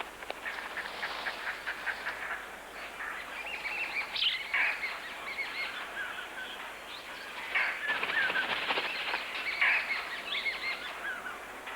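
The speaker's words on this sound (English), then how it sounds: "Even a rose-ringed parakeet will make a brief challenge." Rose-ringed parakeet calling in a woodland nature setting, a burst of shrill, harsh squawks and chirps, repeated in irregular flurries over a faint background hiss, moderately close.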